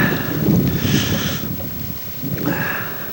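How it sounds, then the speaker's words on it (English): Strong wind roars and buffets the microphone in loud surging gusts, rising and easing over a few seconds with no talking. "Whoa. Windy day."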